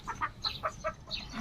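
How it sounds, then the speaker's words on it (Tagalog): A chicken clucks in short, faint, repeated bursts while being caught on a farm, about half a dozen quick calls close by. "Huliin ko na itong manok."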